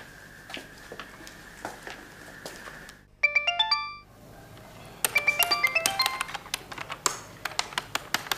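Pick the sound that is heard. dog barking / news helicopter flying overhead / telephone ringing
telephone ringing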